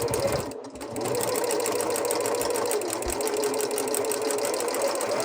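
A sewing machine runs steadily and close, stitching a quilt block seam at a scant quarter inch with a continuous whirring buzz that pauses briefly near the start.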